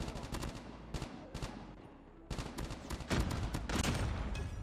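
Short bursts of Type25 rifle fire, tapped in quick controlled shots in Call of Duty Mobile, crack out in clustered groups with brief gaps between, loud and close, over game background ambience.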